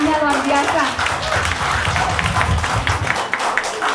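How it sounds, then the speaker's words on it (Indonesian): An audience at a Got Talent show in Hong Kong claps under a host who keeps talking over the applause. "Tepuk tangan dulu untuk semuanya, luar biasa."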